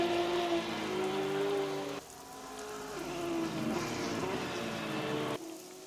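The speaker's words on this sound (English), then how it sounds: "The rain is definitely easing up a little bit." Steady rain falling over a racing circuit at Sportsland SUGO in Japan, a continuous hiss mixed with a humming car engine whose pitch shifts, with abrupt cuts in the sound.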